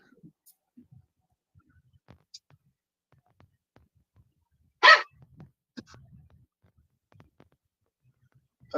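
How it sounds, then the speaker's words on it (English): A small dog barks once sharply and close, standing out from a near-silent background of faint clicks and soft murmurs, with a brief second yap at the very end. "Pardon my pup."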